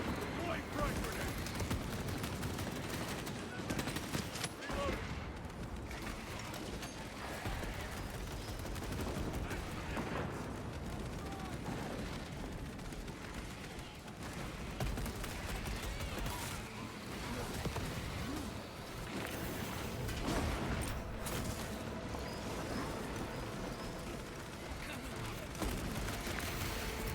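Frag grenade blast and constant gunfire in Space Marine 2 form a dense, loud, steady wall of battle noise with scattered sharp hits throughout.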